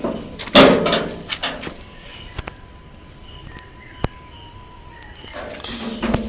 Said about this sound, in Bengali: বাড়ির গেট আমি খুলছি